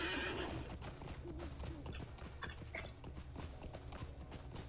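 A Snow Strider horse in Lord of the Rings Online gives a loud whinny, then its hooves clip-clop steadily under a continuous game soundscape, close and clear.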